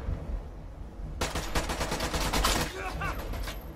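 Rapid bursts of gunfire from the video game Caliber, an assault-class tutorial, starting abruptly after a second of quiet and continuing as dense, loud, rattling automatic fire.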